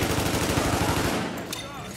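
Rapid bursts of video game gunfire rattle loudly in a dense, rhythmic volley for over a second, then fade into a quieter tail of lingering effects.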